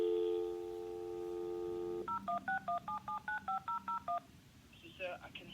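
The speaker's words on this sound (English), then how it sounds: "So, sir, I can hear a phone ringing." A continuous dial tone is followed by a quick run of about a dozen evenly spaced DTMF keypad beeps on a telephone, clear and close, then a brief burst of line noise.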